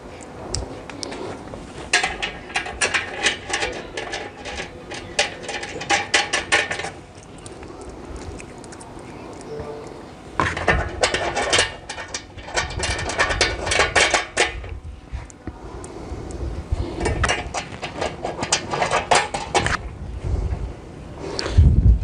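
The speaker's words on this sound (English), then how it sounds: "So quickly put all these nuts and washers on." Small metal nuts and washers clinking and rattling as they are threaded onto bolts while assembling an AT mixer bowl, in irregular bursts of light metallic taps and scrapes, close and alone.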